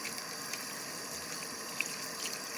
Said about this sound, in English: Rinsed my brushes